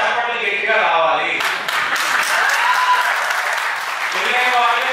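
An audience at a public talk breaks into loud, sustained clapping that swells after a moment and holds as a dense, continuous wash, with a voice faintly present underneath.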